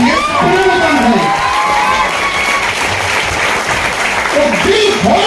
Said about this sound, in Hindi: तो दिल खोल के ताली बजाओ।